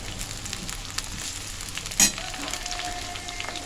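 Mango pieces frying in oil for a spiced mango pickle, a soft continuous sizzle close by, with one brief sharp clatter partway through.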